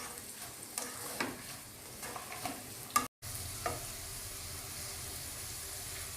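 Broken wheat for upma being sautéed and stirred in a pan, a steady close sizzle with scraping stirring strokes, broken by one brief dropout midway, no voices.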